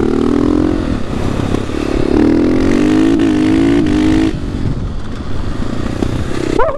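A Husqvarna 450 Supermoto single-cylinder motorcycle is ridden on a circuit track, its engine loud and close as it revs up through rising gear pulls, with a clear drop after a shift and clattering wind noise throughout.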